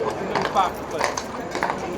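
A spooked horse kicks and stamps at bollards in a crowd setting, with sharp irregular hoof knocks and clatters cutting through loud, continuous talk.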